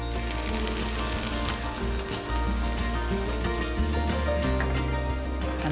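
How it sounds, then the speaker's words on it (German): Cornflake-breaded aubergine schnitzel frying in a pan, a dense continuous crackle and sizzle of hot oil, close and steady throughout with faint kitchen hum beneath. "Und dann geht das Ganze in die Pfanne."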